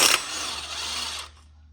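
Pneumatic impact wrench on a clutch bolt of a Ford GT500KR, a short loud mechanical burst of whirring rattle lasting about a second before cutting off to near silence.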